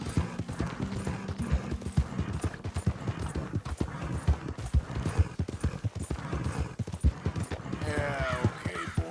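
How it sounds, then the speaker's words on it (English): Horse from the video game Red Dead Redemption II trotting with steady clip-clop hoofbeats, a snort and a whinny near the end, clear and close with little else around. "My horse is sounding awful rough"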